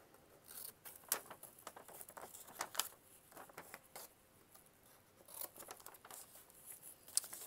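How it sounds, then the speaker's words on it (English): Scissors snip through a folded page torn from an old atlas, making a quiet, close series of irregular crisp cuts and soft paper rustles with short pauses between them. "now I'm just gonna cut just where I fold it"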